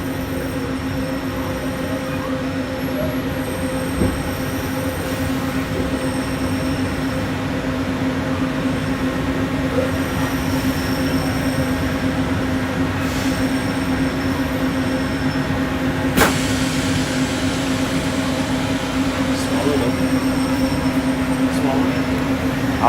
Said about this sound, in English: successful trip here on the monorail inside Disneyland